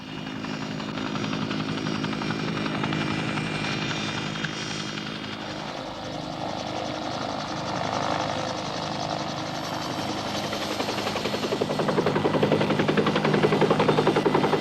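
Military helicopter in the Borneo jungle war of 1964, a steady rotor and engine drone holding at a constant level throughout and swelling slightly louder near the end, with no talk over it.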